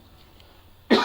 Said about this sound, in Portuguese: desculpe aí a tosse